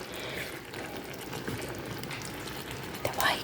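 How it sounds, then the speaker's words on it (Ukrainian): Courgette dish boiling in a pot, a soft continuous burble with a brief louder splash near the end. "кипить, давай, ти можеш"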